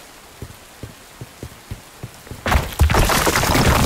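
Rain falling in the video game Bright Memory: Infinite, first as a few sparse drops and soft taps, then swelling into a loud, steady downpour over the last second and a half.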